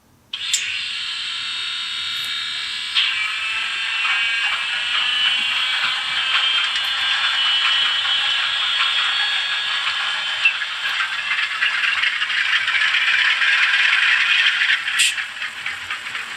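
Sound from an Atlas N scale U23 model diesel locomotive fitted with a LokSound decoder, in Western Pacific 2261 livery, running steadily with a continuous whining, rattling engine drone for the whole stretch, with no talking.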